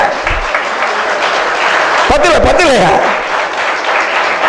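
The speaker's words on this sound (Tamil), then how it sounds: "ஒரு நல்ல ஓங்கி கைத்தட்டுங்கள்" Audience applause in a Tamil university hall at a vote of thanks, a dense, loud wash of clapping filling the whole stretch, with a voice briefly sounding over it midway.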